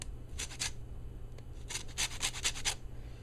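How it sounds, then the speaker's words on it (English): Orange rind being grated in short scratchy rasping strokes, a pair of quick rubs and then a quicker run of five or six, close but fairly soft over a low steady hum. "I take the orange and I grate a little of the rind out of the orange like this."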